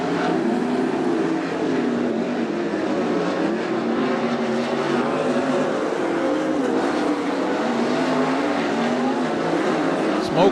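Race cars roar around the dirt oval during a heat race at Attica Raceway Park, a dense, continuous engine drone that holds loud and steady throughout, with a track announcer's voice faintly over it.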